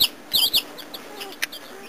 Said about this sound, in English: Dude, there's so many chickens.